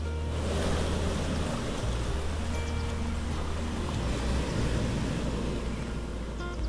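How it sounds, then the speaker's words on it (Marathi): Sea waves roar without a break on Ambolgad beach on the Konkan coast, a broad steady wash of surf heard close with no voices. "समुद्राची गाज अखंड ऐकत"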